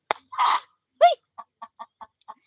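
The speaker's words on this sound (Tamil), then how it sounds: "அங்க கோழி கத்திக்கிட்டு இருக்கு" A chicken clucks close by, opening with a short squawk and a loud harsh cackle, then a rising squawk followed by a loose series of short, evenly spaced clucks.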